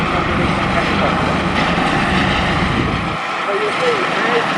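A helicopter hovers at the RAF Valley air display, its rotor and engine making a dense, loud, continuous roar and wash of downdraft noise while a person speaks over it.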